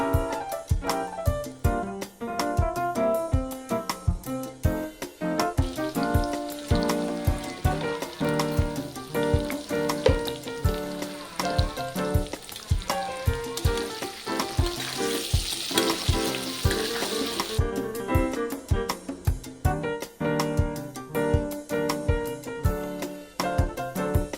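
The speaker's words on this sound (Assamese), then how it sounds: "এতিয়া মাংসত দিব লগা আলুখিনি মই হাই ফ্লেমতে 2 মিনিট মান ভাজি লম" Diced potatoes fry in oil in a wok over a high flame, a loud continuous sizzle broken by repeated rhythmic scrapes and knocks of a spatula stirring, with no voices.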